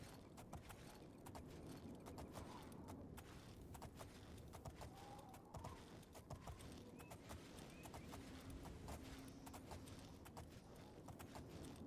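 Horse hooves clip-clop steadily while riding along a road in The Elder Scrolls IV: Oblivion, a continuous rhythmic trot under quiet game ambience.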